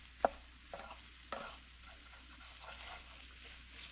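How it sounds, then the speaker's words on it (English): A utensil scrapes the bottom of a skillet of cooking chicken, giving three faint, brief scraping strokes over a quiet, low sizzle. "Scrape this off the bottom."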